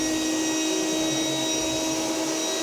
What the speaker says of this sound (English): we're going to vacuum right here.